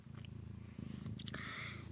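Soft, steady purring close by from a mother cat with four newborn black kittens nursing, a low rhythmic rumble with faint small squeaks and rustles over it.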